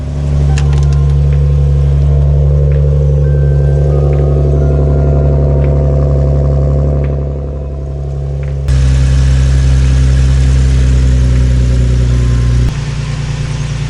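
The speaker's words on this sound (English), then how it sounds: "So it just sounds like a regular exhaust now." An Infiniti G37 idles steadily and loudly close up after an exhaust repair, a deep continuous drone with a brief dip in level and a slight shift in tone partway through.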